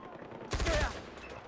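Gunfire in the video game Far Cry 4: one loud burst of shots lasting about half a second partway through, with quiet game ambience before and after.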